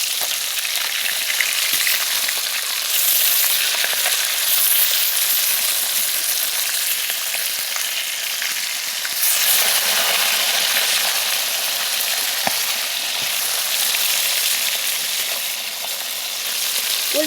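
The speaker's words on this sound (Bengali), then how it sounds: "উল্টি পাল্টে মাছগুলো আমি ভালো করে ভেজে নেব।" Rohu fish pieces sizzle loudly in oil as they are turned and fried, a continuous close crackle with a few brief clinks and swells and no talking.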